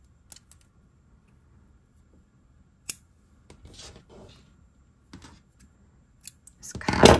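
Scissors snip through crochet yarn tails on a cardigan with a few sharp, quiet cuts separated by near silence, followed by rustling handling of the yarn.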